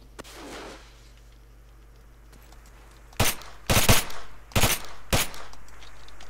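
Hip-fired gunfire in ARMA 3, heard as four loud, sharp bursts of shots in quick succession after a few seconds of quiet ambient hum, with no talking.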